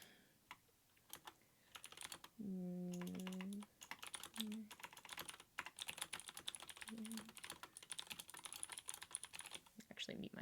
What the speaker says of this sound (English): Loud keyboard is loud.